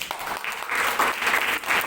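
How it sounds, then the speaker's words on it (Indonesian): Audience applause in an indoor gathering, a short burst of dense clapping that builds and holds steady at close range. "Kasih tepuk tangan dong."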